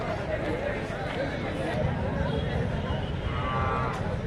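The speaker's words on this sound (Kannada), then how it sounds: "ಇಲ್ಲೊಂದಿಷ್ಟು ಎಮ್ಮೆಗಳಿದೆ ನೋಡ್ರಿ ಟೋಟಲ್ ಒಂಬತ್ತು ಎಮ್ಮೆಗಳಿದೆ" Buffaloes moo at the Thursday buffalo market in Muddebihal, the calls faint and mostly buried in a constant wash of crowd chatter and general market bustle.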